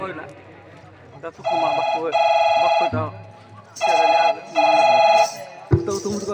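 A telephone rings in repeated electronic bursts, loud and close, with brief talking and other noises in the gaps between rings.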